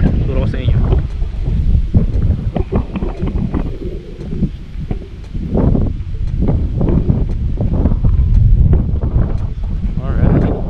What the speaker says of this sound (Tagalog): Actually ano rito, mahangin guys. Ang lamig ng hangin, no?